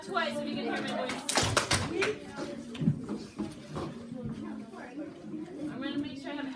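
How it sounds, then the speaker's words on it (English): A classroom of fifth-grade children clapping in response to a teacher's call, a brief burst of claps amid ongoing chatter and shuffling, with the teacher's voice talking over much of it. "clap twice so you can hear my voice."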